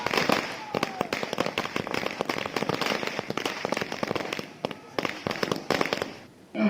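Firecrackers burst in rapid, dense volleys as party supporters celebrate outside a legislator's residence in Tingrai, Assam, with Bihu singing and dancing. The sharp cracks repeat almost continuously and stop briefly near the end.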